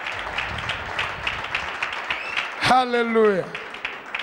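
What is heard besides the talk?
congregation clapping hands in church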